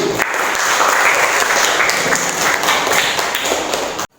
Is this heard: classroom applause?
yes